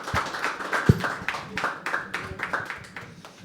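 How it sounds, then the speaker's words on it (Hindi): Audience at a live poetry open mic claps for a performer, a loose scatter of close, uneven hand claps with a few sharper slaps, steady for a few seconds. "जोरदार ताली हो जाए विनीत के लिए"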